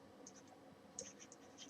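Quiet scratchy strokes of writing on a board during a classroom lecture, a few short bursts with gaps between them and no talking.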